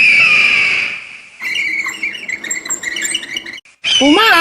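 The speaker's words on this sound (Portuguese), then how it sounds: "Uma águia." An eagle calls with loud, close, shrill screeching cries, then a rapid series of warbling squawks, ending in wavering rising and falling whistled screams.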